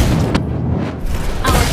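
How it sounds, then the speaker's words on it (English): A turret explodes in the mobile battle game Mobile Legends, giving one loud, heavy boom up front. It sits over a dense game soundscape, and a second burst follows near the end. "Our turret has been destroyed"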